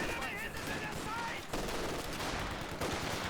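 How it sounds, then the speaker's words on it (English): An MG42 machine gun fires in Company of Heroes 2, a dense, continuous rattle of rapid automatic fire mixed with battle noise, while a commentator talks over it. "Suppression from the MG42 on the rifle"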